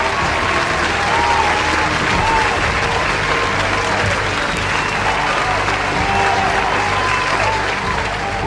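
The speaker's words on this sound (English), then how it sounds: "I would like everyone in the room to give all the parents a round of applause." Graduation ceremony audience at St Mary's College gives the parents a round of applause, a loud, continuous wash of many hands clapping that holds steady throughout, with faint crowd murmur beneath it.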